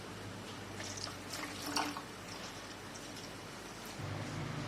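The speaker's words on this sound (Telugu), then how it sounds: "ఇంకొన్ని వాటర్ యాడ్ చేద్దాం" Water poured into a pot of curry seasoned with salt, chili and turmeric, a steady broadband splashing stream that runs throughout, with a brief louder gush partway through.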